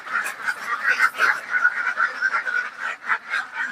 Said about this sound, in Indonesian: Biar keluar semua bebeknya